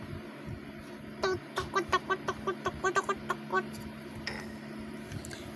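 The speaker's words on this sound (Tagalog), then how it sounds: "Chicken." A chicken clucks in a quick run of about a dozen short, rhythmic calls at moderate distance, faint background hum beneath and a little noise after.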